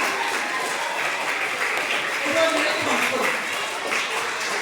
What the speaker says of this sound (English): let's have a clap for her